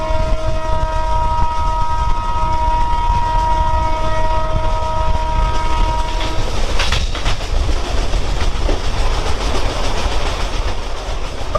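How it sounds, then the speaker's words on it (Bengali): An express train of 24 coaches hauled by a locomotive rolls along loudly and continuously, with a sustained horn tone over the rumble for the first six seconds before the rolling clatter carries on alone. "আমাদের এই এক্সপ্রেস ট্রেনটায় হচ্ছে টোটাল 24টা কোচ আছে, মানে লোকোমোটিভ ইঞ্জিন সহ"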